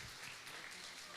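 Church congregation applauding at a baptism certificate presentation, a brief steady patter of many hands, fairly faint and even throughout.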